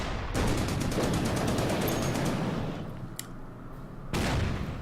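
Gunfire in the World War II strategy game Order of Battle: Panzerkrieg, a loud rapid burst of shots that fades into a quieter rumbling tail, then a second burst begins, with no talking.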